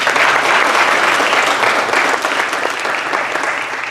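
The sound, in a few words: audience applause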